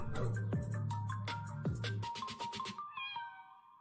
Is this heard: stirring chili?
no